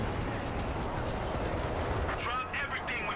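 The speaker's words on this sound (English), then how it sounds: "zeroing artillery called in as well" Booming artillery fire from a tank battle video game rumbles in dense, rolling blasts during a match, with a commentator's voice breaking in near the end.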